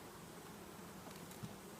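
Honeybees buzzing in an opened hive box full of brood and honey, a faint steady hum close by with no talk.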